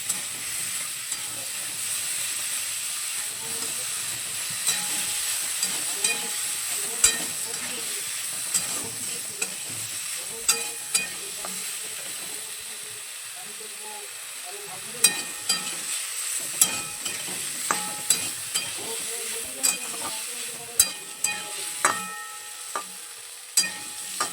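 A spatula stirs and scrapes a pan of vegetables for a spinach curry after a little water, salt and turmeric have gone in. Soft sizzling and steam hiss run steadily underneath, with sharp scraping taps growing more frequent toward the end. No one speaks.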